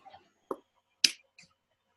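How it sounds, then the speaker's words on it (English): Hands clapping together indoors, a few sharp separate claps spaced about half a second apart, close and dry against a silent background. "clap your hands together."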